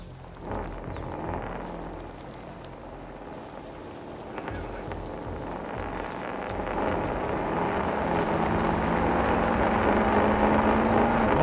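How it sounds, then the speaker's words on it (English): A loud truck engine revs in a Call of Duty: Modern Warfare 2 campaign mission, a low rumbling drone that grows steadily louder and rises in pitch toward the end, continuous beneath game ambience. "that truck is loud"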